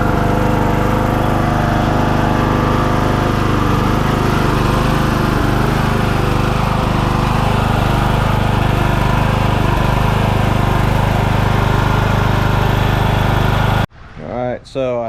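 A 2018 Troy-Bilt Hydro Horse lawn tractor engine runs steadily and loud right up close, a constant droning hum for most of the time, then cuts out abruptly near the end, where someone briefly speaks.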